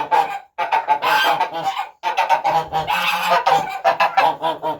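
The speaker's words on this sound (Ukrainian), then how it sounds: "Гусак ось." Domestic geese honking loudly and close by in a farmyard in freezing winter weather, repeated harsh nasal calls in overlapping bursts with a short gap near the start.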